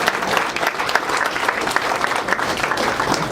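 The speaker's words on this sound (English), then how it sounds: "Everybody give them a round of applause." A meeting audience claps for its vendors in a dense, sustained round of applause from a crowd indoors, with no pauses.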